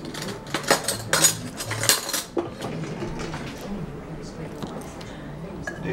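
Rice is served with utensils into dishes: sharp clinks and scrapes of spoon against bowls in a cluster of close knocks, then a softer scraping bed under voices talking nearby.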